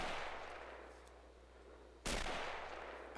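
A single sharp gunshot in the World War II video game Men of War: Assault Squad 2, cracking suddenly out of a low ambient rumble and leaving a decaying tail.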